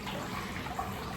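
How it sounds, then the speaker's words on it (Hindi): Water poured into a bowl or vessel in preparation for flowers and a meditation candle, a steady soft splashing trickle, close and continuous for about a second with no talk. "तो भाइयों ये पानी डाल रहा"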